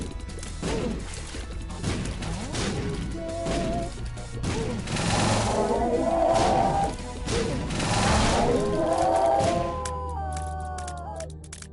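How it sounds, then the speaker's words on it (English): Ipecac explosions in the video game The Binding of Isaac crash and burst repeatedly amid game noise and music, a string of thumping blasts followed by a brief tonal jingle near the end. "The Ipecac explosions will take care of all her spawns too."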